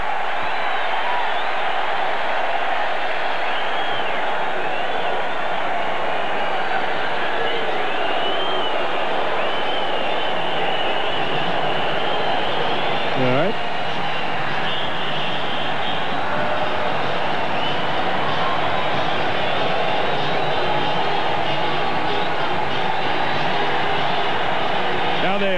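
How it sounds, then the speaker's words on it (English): A large stadium crowd at an American football all-star game does the wave, a loud continuous roar that swells and stays dense throughout, with an announcer talking over it. "The crowd is doing the wave."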